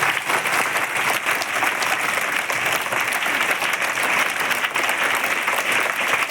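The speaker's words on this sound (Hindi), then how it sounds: "तो लोग विद्यार्थी, शिक्षक, स्कूल के नाम पर आप लोग एक बार जोरदार ताली बजाइए।" Loud, sustained applause from students and teachers gathered at a school function, a thick, even roar of many hands clapping with no break and no speech.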